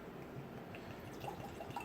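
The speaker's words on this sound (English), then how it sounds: "So let's give this one a pour." Russell's Reserve bourbon poured into a glass, a soft, close, steady trickle and drip of liquid lasting a couple of seconds, quiet and without talk.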